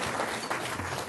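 Brief burst of audience applause at a law school breakfast event, dense indoor clapping, moderately loud and continuous.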